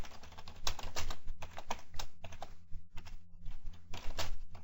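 Code being typed on a computer keyboard: a steady run of close, crisp key clicks in irregular bursts with brief pauses, no voices.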